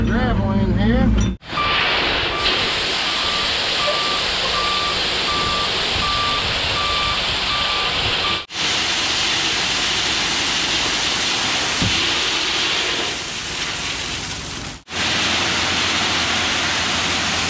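Truck backing up to dump a load of gravel for a concrete retaining wall job, a steady intermittent reversing beep over loud engine rumble and rushing noise, close and continuous with a few abrupt breaks.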